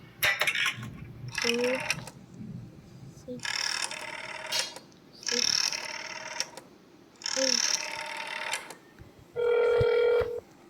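Phone call ringing in the horror game That's Not My Neighbor: five evenly spaced ring bursts of about a second each with short quiet gaps, loud and close.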